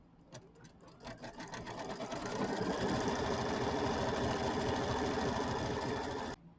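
An embroidery machine stitching a diamond quilting pattern on a Kimberbell mini quilt starts with a few separate clunks, then settles into a fast, steady, rattling run of stitches close by before stopping abruptly.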